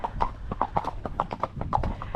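Hooves of a ridden horse clip-clop in a brisk, even rhythm on a hard path out on a hack, loud and close with no talking over them.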